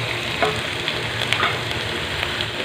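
Mutton going into light-brown onions in a hot karahi, with a steady, close sizzle and a faint scrape of stirring running throughout.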